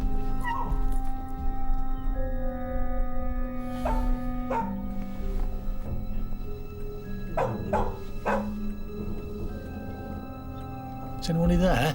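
A dog in a TV drama yips, whimpers and lets out short barks over a steady low background hum, with someone speaking nearby between the sounds.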